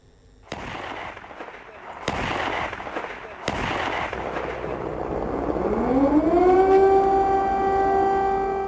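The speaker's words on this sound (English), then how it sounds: "Air raid sirens go off in Ukraine's capital Kiev" Three sharp booms ring out, then an air raid siren in Kyiv, Ukraine, winds up and wails steadily, loud and sustained across the rest of the clip.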